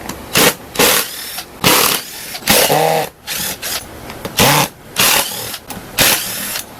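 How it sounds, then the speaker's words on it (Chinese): Screws being removed from a Makita DGA404 18V 4-inch cordless brushless angle grinder during servicing: about eight short, close whirring motor bursts with a rising whine, separated by brief pauses. "那这边要拆的话，我们先把一些螺丝拆起来。"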